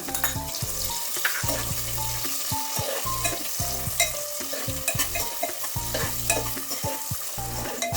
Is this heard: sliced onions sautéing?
yes